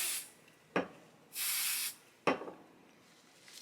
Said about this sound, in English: So this purple basting adhesive is just from Walmart, so I will just spray the end